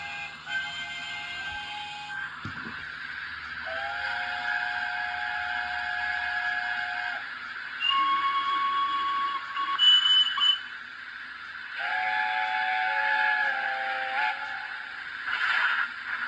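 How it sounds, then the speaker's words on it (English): A Hornby toy steam train's built-in speaker plays a passing-train effect, thin whistling tones and faint clattering that rise and fall in several separate bursts, quiet and tinny. "A train going past."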